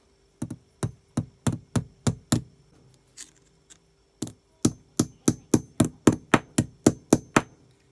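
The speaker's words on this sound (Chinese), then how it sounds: "现在我们再用锤子把这个前面给它砸扁" A hammer flattens the end of a copper tube fitted onto an electric soldering iron: two runs of sharp, evenly spaced metallic blows, about seven and then about twelve, split by a short pause with faint handling noise.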